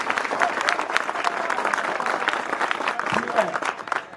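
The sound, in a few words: men in the audience clapping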